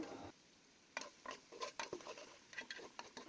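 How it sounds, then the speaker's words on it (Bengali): Chopped onions fry in a pan until brown for chicken khichuri, with a quiet background sizzle broken by repeated scraping stirs of the spoon. No one speaks. "পেঁয়াজ কুচিগুলো ব্রাউন কালার হওয়া পর্যন্ত ভালোভাবে ভেজে নিতে হবে"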